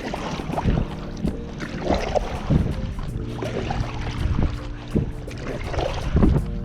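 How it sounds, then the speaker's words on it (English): A paddler works a 12'6" Gili Meno touring SUP against wind and tide, giving repeated rhythmic splashes and water strokes over steady wind buffeting, close and fairly soft, with no voices. "Here's just a little demonstration of what paddling against the wind, the tides kind of entails"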